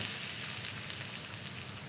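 Soft, continuous hiss of a fryer in a fast food simulator video game, faint and even, like oil bubbling quietly with no voices.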